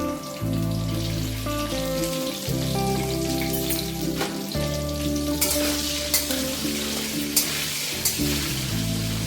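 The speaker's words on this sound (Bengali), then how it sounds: "এর মধ্যে আমি পটলগুলো সব ভেজে নেব।" Pointed gourd (potol) pieces fry in hot oil with salt, giving a steady, close sizzle with a few sharp pops and stirring scrapes over a low continuous hum.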